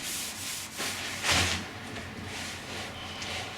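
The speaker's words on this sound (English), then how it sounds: "with a soft sanding sponge to even out small voids" Soft, steady rubbing of a soft sanding sponge on a varnished kayak hull, close and fairly quiet, in repeated back-and-forth strokes with no talking.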